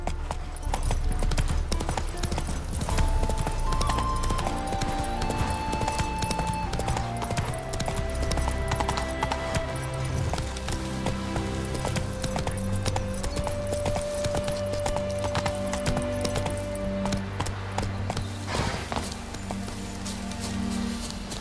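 Geralt's horse Roach galloping in The Witcher 3: Wild Hunt, hooves clip-clopping in a fast, steady rhythm throughout, close and continuous, with sustained musical tones playing over it.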